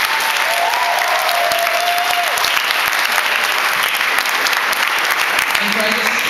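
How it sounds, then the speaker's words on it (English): Convention audience at an opening ceremony breaks into loud, sustained applause, dense clapping filling the whole stretch with a brief voice calling out over it. "can I just get everybody to give a big round of applause to Mark and Michaela"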